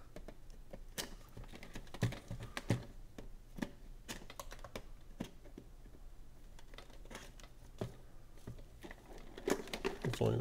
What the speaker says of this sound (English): Just tape off here.